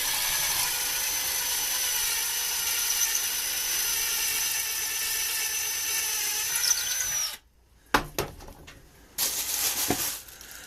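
A power drill runs steadily through plasterboard for several seconds, close and loud, then cuts out and gives a couple of short bursts after a pause.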